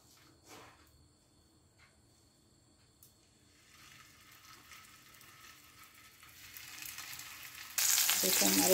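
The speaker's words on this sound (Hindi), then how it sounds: "अब बस मैं इनको फ्राई करती हूँ हल्का सा ऑयल डाल के।" Gola kababs frying in a little oil, a faint sizzle that builds gradually and jumps to a loud, steady hiss near the end, with a few soft knocks early on.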